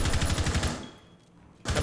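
Rapid automatic gunfire in Rainbow Six Siege, a loud close burst of repeated shots that cuts off, a short lull, then resumes.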